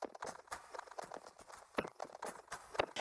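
A sample loop run through a pitch folder effect at about half wet mix, giving a choppy pattern of clopping, hoof-like hits in an uneven rhythm, dry and close.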